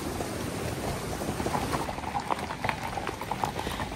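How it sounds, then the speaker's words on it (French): Horse hooves clip-clop along a mountain trail in the Alps between stone walls, a faint, irregular string of sharp knocks under a steady rushing outdoor wash, with no talking. "La belle musique des sabots est amplifiée par les murs de pierre qui sont chaque côté du sentier."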